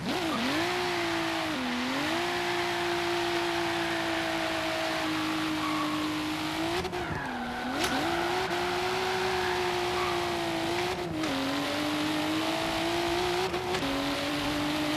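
A racing video game car, steered with a Logitech wheel through a handbrake turn, gives a continuous engine drone that dips and rises in pitch as it slides, with faint tire noise and no voices.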